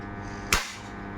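A single sharp crack from an SDB Sniper Nitro piston air rifle, loud and close, rising abruptly out of steady background noise and trailing off within a fraction of a second.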